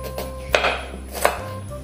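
Knife chopping jackfruit seeds on a cutting board, two distinct sharp cuts about a second apart, close and clear over faint background hum.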